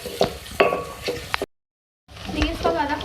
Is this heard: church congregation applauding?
no